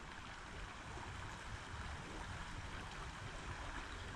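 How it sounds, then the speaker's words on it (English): Creek water runs near beaver dams as a faint, continuous rushing wash, steady and distant, with no voices. "that water's running wide open down through here."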